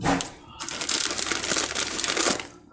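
Crinkly plastic noodle packaging being cut open with scissors while making quick pho, a close, continuous rustle and crackle of the wrapper over a few seconds.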